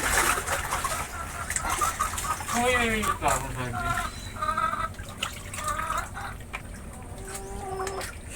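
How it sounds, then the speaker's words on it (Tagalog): Chickens cluck and squawk nearby in a coop in a busy, uneven chorus, with background voices and a faint watery rustle. "Ang ating kulungan ng manok."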